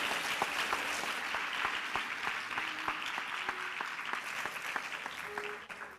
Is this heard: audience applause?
yes